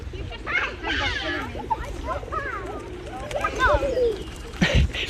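Pigeons coo in a London spot where parakeets gather, with soft repeated coos and scattered bird calls sounding fairly close, partly overlapped by a person talking.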